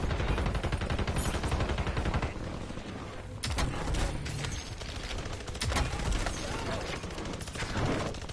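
SMG fire in Call of Duty: Warzone, with dense rapid bursts and sharp cracks that rattle on almost without pause, fairly loud and close throughout.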